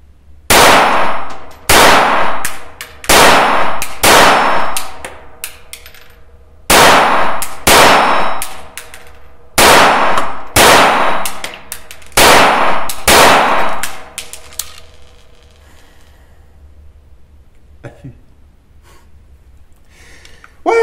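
Sharp, loud pistol shots from a High Standard 106 fired in quick rhythmic bursts of single reports, close by, then tapering into quieter handling noises and faint clinks toward the end.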